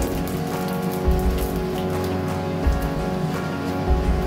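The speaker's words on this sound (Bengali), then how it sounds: "এবার আমি তেলে দিয়ে দেবো একটা শুকনো লঙ্কা হাফ করে। দিলাম অল্প কালো জিরে" A halved dried red chili and black cumin seeds sizzle in hot oil, a loud, steady, dense crackle with small spikes throughout and no talking.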